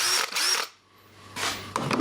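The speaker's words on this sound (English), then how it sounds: "Very heavy drill, very heavily made." A heavy, heavily built rebadged Milwaukee power drill whirs in two short loud bursts, separated by a brief lull.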